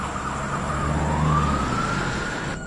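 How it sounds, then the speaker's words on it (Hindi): An ambulance siren wails over steady road noise, its tone sweeping upward and holding, moderately distant. "तब जाकर एम्बुलेंस आई।"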